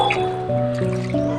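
Water running and dripping as a lily pond is refilled after cleaning, a close, steady liquid sound with a few drips, no talk.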